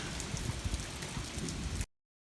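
Steady rain falls during a hot summer day with light showers, a dense, even patter close by that runs continuously and then cuts off abruptly near the end.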